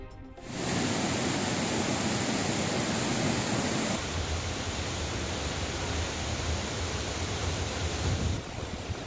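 Roaring flash-flood water rushing down the Courtallam waterfalls in Tenkasi after heavy rain, a loud, steady, continuous torrent with no voices.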